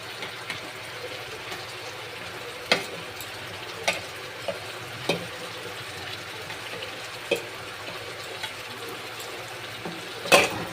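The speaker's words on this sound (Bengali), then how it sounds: "এবার এটা আমি ভালো করে ভেজে নেব।" Ginger garlic paste frying in butter in a pan for butter chicken, a steady low sizzle with occasional soft clicks of stirring, fairly quiet and continuous with no talk.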